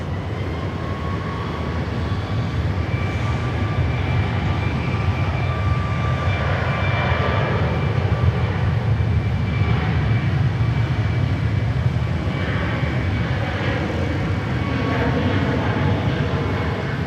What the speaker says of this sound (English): about to roll here on runway 16 right